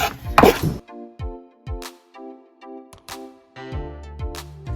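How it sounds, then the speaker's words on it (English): A knife chops an onion finely on a board, producing a series of crisp, separate taps close by, spaced unevenly, with no speech. "So this is how you would get your onions finely chopped, just like this."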